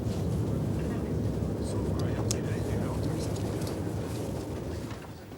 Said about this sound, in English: If the engines are stopped for more than 2 hours, they will freeze up.